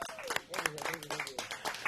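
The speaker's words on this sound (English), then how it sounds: "big round of applause for Jaime Dianda" Brief applause on a Tejano radio show, a quiet patter of clapping heard beneath a host's speaking voice.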